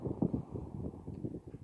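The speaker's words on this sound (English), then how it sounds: "It's pretty windy today." Gusty wind buffets the microphone outdoors in low, uneven rumbling bursts that rise and fall continuously, with no talking.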